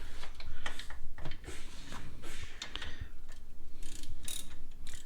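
A 12mm ratchet clicks in quick repeated bursts while turning a bolt on a Honda XR100R motorcycle, a close, busy mechanical ticking with bursts of louder metallic rattle and no talk.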